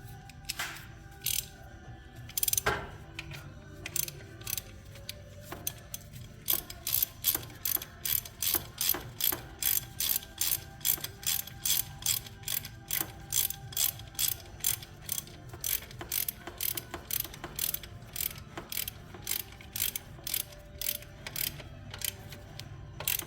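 A ratchet snugs a bolt back in near the alternator of a 2008 Jeep JKU, first a few scattered clicks, then a long run of quick, even ratcheting clicks at close range with no talk.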